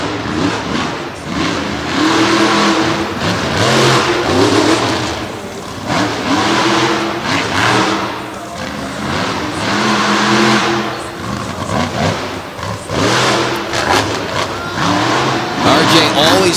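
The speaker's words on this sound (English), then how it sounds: "He's able to really throw that truck around in a tight space." The War Wizard monster truck's engine roars and revs continuously through a freestyle run on a small arena floor in Madison, Wisconsin, loud and rising and falling, with an announcer talking over it throughout.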